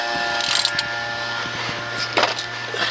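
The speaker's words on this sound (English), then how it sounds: "Sometimes you have to get the wrench, or you can get a leverage on it." A wrench ratchets and clicks while loosening the oil drain plug on a car during an oil change, giving a run of close mechanical clicks with a brief louder burst near the end, and no talk.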